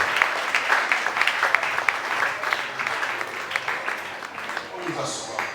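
A church congregation applauds, a steady dense clapping that carries on for several seconds at fairly loud volume, with voices mixed underneath.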